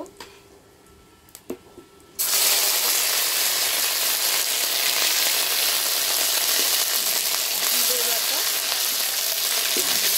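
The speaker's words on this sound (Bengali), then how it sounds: "তেলটা গরম হয়ে গেছে, জিরে দিয়ে দেব। দিয়ে দেব শুকনো লঙ্কা" Cumin seeds and dried red chillies hit hot mustard oil in a pan, setting off a sudden, loud, steady sizzle that keeps going close up after a quiet start with a few small clinks.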